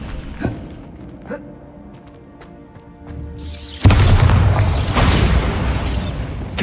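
A Bombarda spell from the wizarding video game Hogwarts Legacy detonates as a sudden loud blast that erupts after a few quiet, sparse clicks and pops, then rumbles on as broad, sustained roaring noise.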